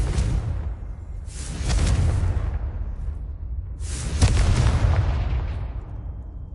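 Confringo blasting spell explosions in the video game Hogwarts Legacy: two loud booming blasts with rumbling tails, the second carrying a sharp burst on top, close and unvoiced.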